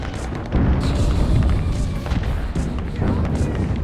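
Heavy mortar blasts from the World War II shooter Enlisted, a dense barrage of deep booms and thuds rolling one into another, loud and close, with a steady rumble of battle underneath.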